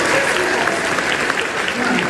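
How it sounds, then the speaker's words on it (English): A room full of people applauds steadily in a university event setting, a dense continuous patter of clapping at moderate volume throughout with voices faintly mixed in. "Can we give her a round of applause?"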